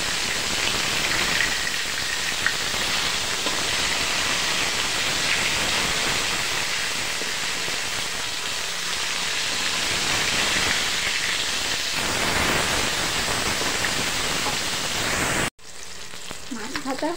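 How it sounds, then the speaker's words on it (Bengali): Fish pieces frying in hot oil in a pan, a steady loud sizzle and crackle that continues without pause before cutting off abruptly near the end. "এখন আমি আরেক পিস ভেজে নেব।"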